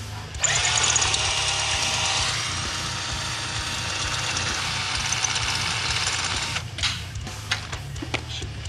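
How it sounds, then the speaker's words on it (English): Power drill boring out a small hole during a Hush Hydro install on a DA9 build, a steady loud whir that runs unbroken for several seconds before breaking into brief bursts and clicks near the end. "Got to drill it out a little bit."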